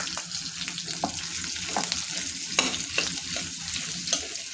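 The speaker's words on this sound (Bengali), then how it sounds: "এখন এই আলুটা আমি দিয়ে দেব।" Potato frying in a hot pan while being stirred: a steady close sizzle broken by repeated scraping strokes of the spoon, with no talking.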